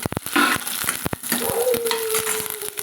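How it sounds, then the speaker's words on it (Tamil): Green chillies and curry leaves sautéed in a pan as the base for an idli kurma, giving a steady close sizzle with sharp spoon or spatula clicks against the pan. "பச்சை மிளகாங்க கருவேப்பிலை வதக்கலாங்க முதல்ல நம்ம வதக்கிட்டு"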